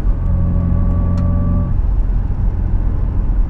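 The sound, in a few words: 1991 Mercedes 124 200CE driving in city, sport exhaust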